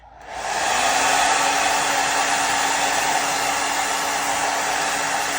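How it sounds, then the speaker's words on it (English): A blow dryer whirs on and runs steadily with a loud, constant airy hum and a faint whine underneath, used on a wig cap during a wig install. "Then I go in with my blow dryer."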